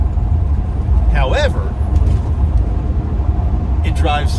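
A Class B RV with an upgraded suspension drives up a highway ramp, its steady road rumble and engine drone running throughout, with a couple of brief higher-pitched squeaks standing out above the noise.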